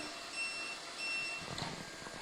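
A Lefant F1 robot vacuum cleaner gives two clear, high electronic beeps, evenly spaced, over a quiet background hum followed by faint shuffling.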